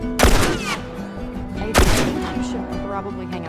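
Gunfire in The Last of Us, two sharp loud shots about a second and a half apart, each with a long ringing decay over a steady game soundscape.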